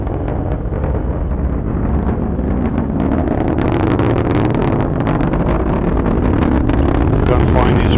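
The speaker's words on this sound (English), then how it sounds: "Booster engine continues to operate well." Atlas V rocket booster engine roaring steadily during launch, a loud, continuous broadband rumble with no breaks, while a voice talks over it.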